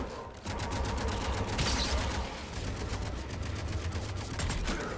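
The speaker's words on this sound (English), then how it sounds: "the cutscene bullets are going crazy" Sustained rapid gunfire in a Mass Effect 3 cutscene, a continuous loud rattle of shots running the full length with a brief louder burst early on.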